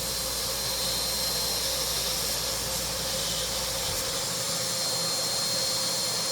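A Nilfisk HDS1005 vacuum with a damaged body runs on its low setting, hose suction drawing a steady, loud broadband rush of air that holds constant throughout with no talk.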